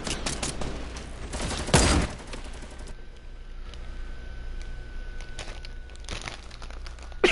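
Gunshots from a first-person shooter video game: a sharp loud burst of fire early on, then sparse, quieter scattered shots and clicks against a low background hum.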